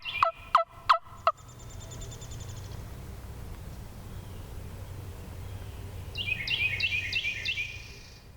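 A wild turkey gobbler in the spring woods gobbles, a loud rapid burst of four sharp calls up front, then a distant, fainter rattling gobble later over steady low background noise.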